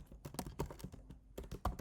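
A quick run of keystrokes on a computer keyboard while code is being typed, close and crisp, with irregular taps and a brief lull midway and no speech.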